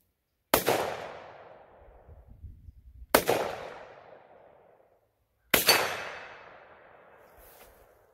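Three sharp gunshots from a 9 millimeter Luger round fired through a gun adapter. Each loud crack rings out and fades, spaced a few seconds apart, with quiet between them and no voices.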